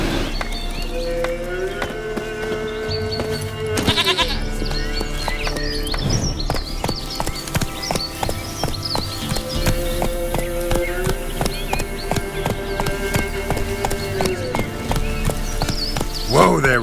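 Roach the horse trots in The Witcher 3, a steady run of close clip-clopping hoofbeats over game music and ambience, with talk mixed in.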